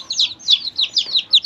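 Baby chicks, including Silkie and bantam chicks, chirp in a brooder with a steady run of high, rapid peeps repeating about every quarter second. They are close and fairly loud, and no other sound competes.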